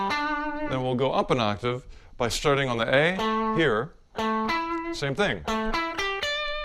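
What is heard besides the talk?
electric guitar chord played in octaves, distorted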